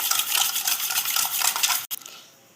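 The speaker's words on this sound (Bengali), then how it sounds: "এবার ভালো করে মিশিয়ে নেব। এটাকে খুব ভালো করে মেশাতে হবে।" Flour and yeast are mixed in a bowl for homemade naan dough, making a steady scraping, rustling stir that ends abruptly with a small clink and a short fading tail.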